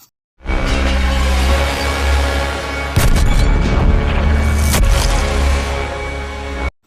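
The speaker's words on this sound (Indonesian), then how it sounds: "baku tembak pun terjadi" Gunfire shootout from the film Welcome To The Punch, a loud, dense cinematic roar of shots and blasts with a sharp impact burst midway, continuous and heavily layered throughout.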